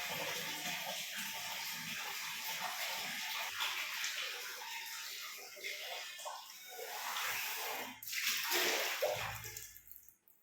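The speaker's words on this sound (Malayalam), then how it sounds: "ഇനി നമുക്ക് വെള്ളം ഇനി ഒഴിച്ചാലും പെട്ടെന്ന് തന്നെ വെള്ളം അങ്ങ് പോയിക്കോളും" Water poured onto a bathroom floor rushes and gurgles steadily into the drain, close and continuous, ending in a brief louder splash before fading out.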